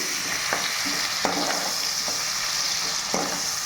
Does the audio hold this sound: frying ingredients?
yes